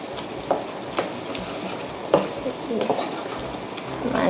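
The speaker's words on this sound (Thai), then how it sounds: "ใส่ตัวน้ำกับแป้งมันลงไปนะคะคนด้วยให้แค่พอเหนียวๆหนืดๆ" Gravy with water and tapioca starch sizzles in a pan while being stirred, a steady frying hiss broken by a few soft scraping knocks of the utensil.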